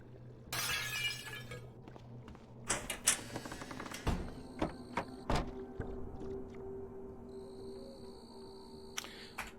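Repeated smashing of objects for splintered wood in the video game Cataclysm DDA comes through as a bright shattering crash and then a string of sharp cracks and breaking knocks, with a low electronic hum and tones underneath.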